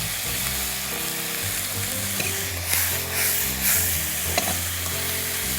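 Noodles for seafood ramen stir-fry in a pan with a loud, close sizzle, broken by scraping bursts of stirring.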